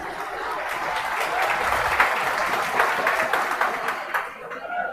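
A classroom of students claps steadily for several seconds, a dense continuous patter of many hands at close range with a faint voice in the background.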